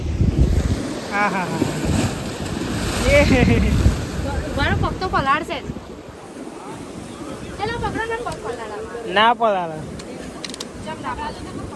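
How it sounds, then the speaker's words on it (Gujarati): Sea waves roll onto a beach near Dwarka, a broad windy wash of surf with wind buffeting the microphone, and several people talk and shout close by over it. "મોજા કેટલા બધા આવે જો"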